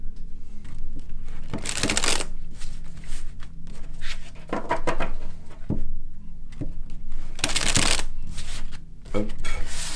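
Tarot cards shuffled by hand, a close run of crisp riffling bursts and soft slides repeating in quick irregular rhythm, with quiet background hum.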